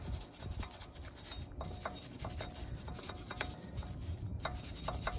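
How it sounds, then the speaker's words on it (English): A wire brush scrubs rust off a Subaru wheel hub during a rotor and brake pad job, giving a continuous close rasping scratch with quick repeated strokes. "I'm going to get my wire brush. I'm going to clean up the hub here"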